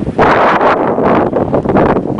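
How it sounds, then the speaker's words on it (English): A strong, steady headwind of about 30 miles per hour roars and buffets across the microphone during a long-distance coast-to-coast bike ride, loud and continuous with gusty surges and no talking. "demonstrate that there is a headwind today"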